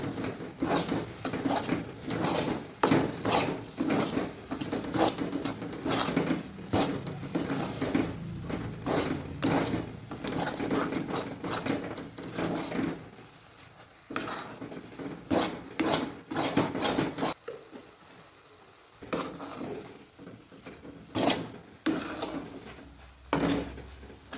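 Spoon scraping and clinking in a bowl while cumin and chili powder are mixed into a green-pea kachori filling, with steady close rhythmic strokes and a few brief pauses.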